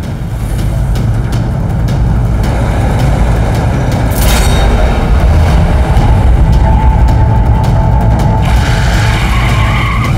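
A car driven fast skids with a harsh tyre screech over a loud, steady engine roar, close and sustained throughout, with a sharp burst partway through.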